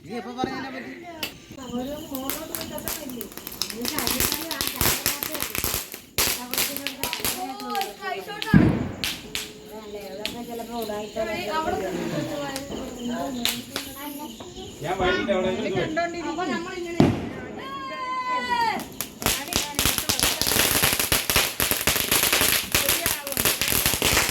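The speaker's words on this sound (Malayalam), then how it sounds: "ഹരിചേട്ടൻ അമ്മിട്ട് പൊട്ടിക്കാൻ പോവുകയാണ്" Firecrackers bursting at a Diwali celebration, a string of sharp cracks and pops spread across the scene, with people talking and children's voices throughout.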